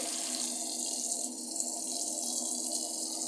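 Lukewarm tap water runs steadily into a sink while makeup brushes are washed, a constant bright hiss and splash close by with no pauses and no talking.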